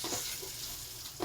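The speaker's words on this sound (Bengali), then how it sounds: "মাছটা আমার লাল লাল করে ভাজা হবে" Koi fish fry in hot oil, giving off a brief, soft sizzle that crackles quietly throughout, with no voices present.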